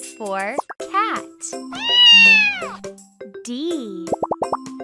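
A playful cat meow from a children's animal alphabet game comes as one long, clear meow close up. Bubbly plopping effects and cheerful speech surround it.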